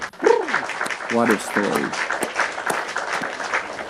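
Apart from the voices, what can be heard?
applause sound effect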